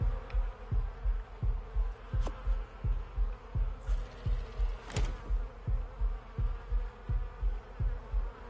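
A loud heartbeat in a video game, a regular thudding pulse of paired beats repeating steadily under a buzzing hum, with a few sharp clicks scattered throughout.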